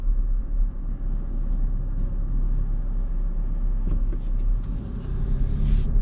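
A Land Rover Defender on the road, its engine a steady, loud low rumble with tyre and road noise swelling slightly near the end, no voices over it.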